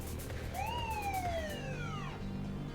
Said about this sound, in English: what I hear next isn't a bell, it's a police siren.